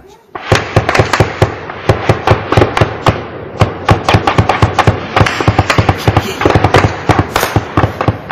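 Rapid volley of sharp gunshot-like bangs, loud and close, firing in quick irregular bursts for several seconds with little pause between shots.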